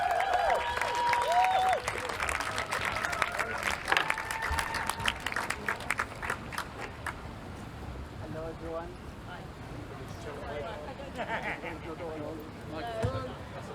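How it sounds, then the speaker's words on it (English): Crowd applause and cheering at a Palestine solidarity rally in Bristol, a dense burst of clapping that thins and fades out, with someone speaking through a public address system over it. "massive round of applause"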